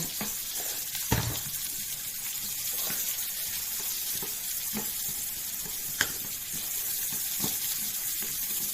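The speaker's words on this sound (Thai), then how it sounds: "หอมหัวใหญ่จ้ะ ผัดกันเลย" Butter and onion stir-fried in a pan, a steady close sizzle with occasional scrapes and clinks of a utensil stirring, no voices.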